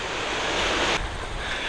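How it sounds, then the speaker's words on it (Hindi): Ocean surf breaking on a New Zealand beach near a former battle ground, a steady broad wash of waves with wind noise on the microphone, loud and continuous with a slight drop after about a second. "आपको दिखाता हूँ ये समंदर"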